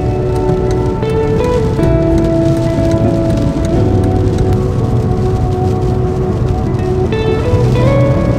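Rain falling steadily near the Magpie Mine ruins in the Peak District, a dense continuous patter on surfaces at a loud, even level, with tonal hum layered underneath.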